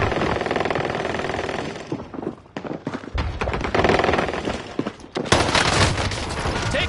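Sustained gunfire in Call of Duty on Rebirth Island, loud crackling bursts that briefly thin out mid-way before another heavy volley erupts, close and continuous.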